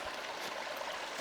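A natural spring runs in a steady, close, broadband rush of flowing water with a soft gurgle, brief and continuous, with no voices.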